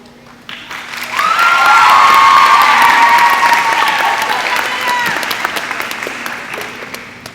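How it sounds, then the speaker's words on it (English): A crowd in a high school gym applauds and cheers for the United South High School cheerleaders, swelling quickly to loud clapping with whoops, then slowly tapering off. "our United South High School cheerleaders, under the direction of Ms. Ana Ruiz, will perform a cheer for our Panther Legends"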